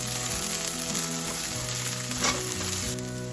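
Ginger sizzles and crackles steadily as it is stirred in a hot pan while cooking a Filipino-style creamy chicken curry, a continuous close frying hiss with soft scraping and no talk.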